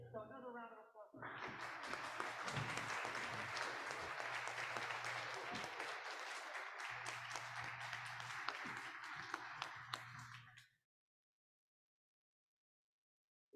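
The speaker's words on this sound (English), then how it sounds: "So another round of applause for" Applause from an audience at a school board meeting, sustained clapping with some sharp individual claps for about ten seconds, then cutting off into silence.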